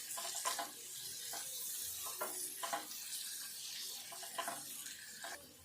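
Cabbage, added to a potato and cabbage curry, sizzles steadily in a hot pan while a utensil stirs it with several scraping strokes, close and moderately loud, with no talking.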